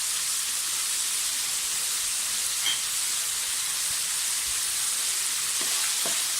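Carrots sizzling in hot oil for chicken fried rice, a steady dense frying hiss that holds evenly throughout with no voices.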